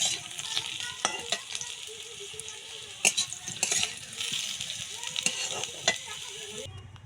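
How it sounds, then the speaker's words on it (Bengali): Potato pieces frying in hot oil, a steady close sizzle broken by scraping stirs and clicks of a utensil against the pan. "আলুগুলো লাল লাল করে ভাজা হয়ে গেছে"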